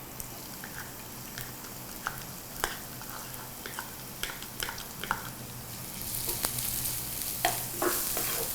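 Chopped onion stir-frying in a pan for a dragon chicken dish gives a steady close sizzle, with scattered scraping clicks of a spatula that grow louder and more frantic toward the end.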